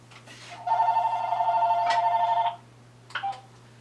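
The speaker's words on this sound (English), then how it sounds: "Let me stop this phone." An incoming call rings on a phone indoors: one long electronic trilling ring lasts about two seconds, then a shorter burst follows after a pause, near and clear over a low steady hum.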